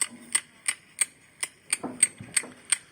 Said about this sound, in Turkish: çizmiş olduğum bölgede yeniden bıçağımla İkinci defa. Kesit açıyorum.